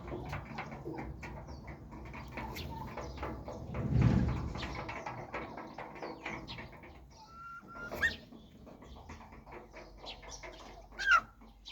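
Farmyard turkeys call with scattered gobbles and clucks, one louder close burst near the start and sharper calls later, mixed with other background poultry noise and no clear speech.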